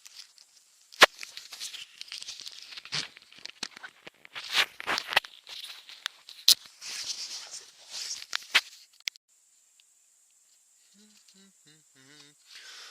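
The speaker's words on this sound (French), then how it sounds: "la fermeture qui se bloque" A zipper snagging and jamming at night in a forest, with a series of sharp rasping tugs and crinkly rustles close by, then a quieter stretch with faint high tones near the end.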